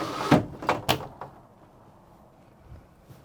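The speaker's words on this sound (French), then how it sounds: "Et la porte moustiquaire, j'ouvre la porte." The mosquito screen door of an Adria Action 391 PD caravan is opened with a few quick, close plastic clacks and rattles, then quiet.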